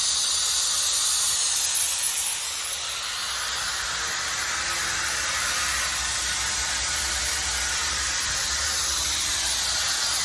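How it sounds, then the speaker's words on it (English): Steam hisses through a steam adapter into the drum while curing a pipe liner during inversion lining, a loud, steady, continuous hiss that holds unbroken for the whole stretch with no voices. "go through here, through the steam adapter into the drum"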